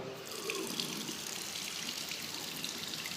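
Tap water running steadily into a sink in a suburban railway station toilet in Lviv, a continuous close splashing hiss with no talking.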